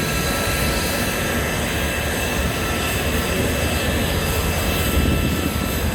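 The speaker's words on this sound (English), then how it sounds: "bringing the Avenger in now" A Grumman Avenger's radial engine roars at an air show, a loud, steady, continuous drone that fills the whole stretch, close and unbroken.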